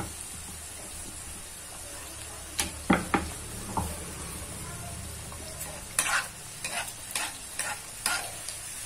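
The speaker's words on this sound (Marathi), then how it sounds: "छान मस्त खमंग तळून घ्यायची." Stuffed sambar wadi (Nagpur-style pudachi wadi) deep frying in oil, a quiet continuous sizzle near the pan broken by several sharp clicks and knocks of a utensil, with no talking.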